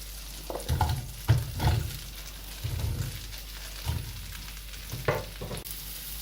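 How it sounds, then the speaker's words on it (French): Granny Smith apples frying in a pan for a tarte tatin, a steady close sizzle broken by several bursts of stirring and scraping, with no talking. "Donc je vais mettre d'abord les Granny Smith et ensuite je ferai les autres pommes."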